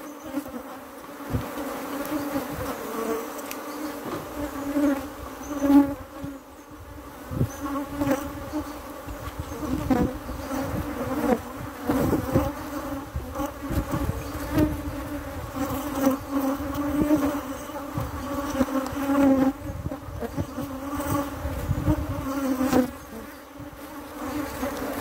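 Honeybees buzz continuously around a hive, a dense steady drone with individual bees flying near and away, no speech.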